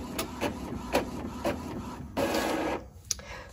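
A home printer feeds a sheet of printable sticky notes, giving repeated rhythmic mechanical clicks and shuttle passes, then a longer rasping feed stretch and a sharp click near the end, close and alone without talk.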